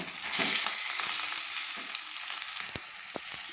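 Chili powder masala sizzles in oil in a pan for a goat liver and giblet curry, a dense continuous hiss with occasional scrapes of a spoon stirring, close up and without voices.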